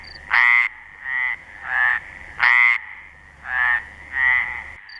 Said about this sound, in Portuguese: As várias espécies de rãs e sapos que aqui ocorrem estão a comunicar a fim de encontrarem os seus parceiros para acasalar